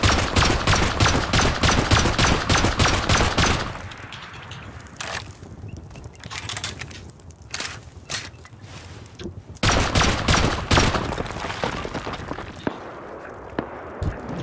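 Rapid gunfire bursts from the survival game Rust ring out loud and dense at first, pause into scattered distant shots, then return as sustained volleys from an island.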